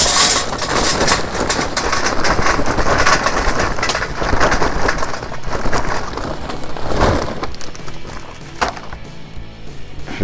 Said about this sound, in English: we're gonna fill that up with some good briquettes today